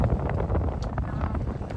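Steady wind buffets the microphone in a low, continuous rumble, loud and close throughout with no pauses.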